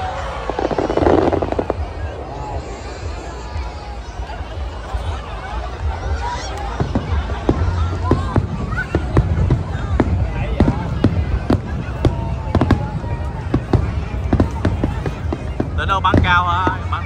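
Fireworks set off in Saigon for the April 30 – May 1 holiday crackle and pop in rapid irregular bursts over a noisy outdoor crowd, with scattered voices and a whistling rocket near the end.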